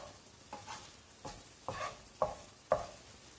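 An onion and tomato mix is pushed aside in a frying pan, with a faint sizzle under roughly five distinct scraping stirs that grow sharper toward the end.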